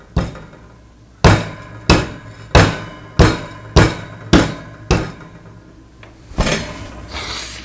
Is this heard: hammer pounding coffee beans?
yes